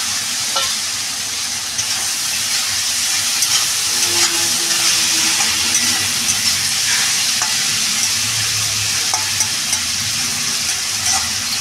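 Chopped tomatoes sauté with cumin powder in an oiled pan while fish is cooked in a spicy oil gravy, making a continuous close sizzle broken by stirring scrapes and light clinks, with no talking.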